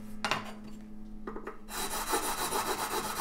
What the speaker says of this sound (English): These friggin' nut files, dude. They're ridiculous.